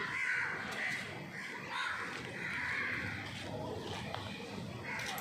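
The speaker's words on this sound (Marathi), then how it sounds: "त्याच्यावरती असं टाकते तर कावळे भरपूर येतात खाण्यासाठी" Crows caw again and again in a steady noisy chorus, several birds calling over each other nearby as they gather to eat scattered food.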